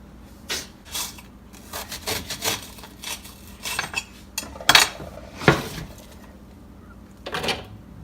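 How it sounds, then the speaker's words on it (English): Rutabaga and pumpkin being peeled and cut up in a home kitchen, a series of sparse scraping strokes and knife knocks against a board, with a few sharper clacks, close and moderately loud, no talking. "The only thing that takes time is the peeling and the cutting up of the rutabaga and the pumpkin"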